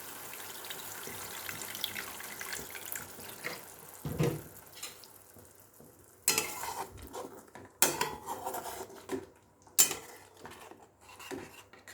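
Water splashes into a pan of fried masala for a Bengali bata fish kaliya curry, arriving in several short, sharp bursts among kitchen clatter from utensils and cookware, with no talking.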